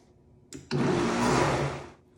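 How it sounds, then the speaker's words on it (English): A blender whirs as it purees sun-dried tomato hummus with olive oil and salt, starting after a brief click and running as a steady, close, loud motor roar for over a second before winding down. "just blend"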